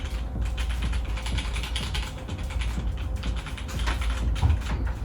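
Fast, steady typing on a HyperX Alloy Elite 2 mechanical keyboard with HyperX switches, close and continuous, a dense clatter of keystrokes with no talking.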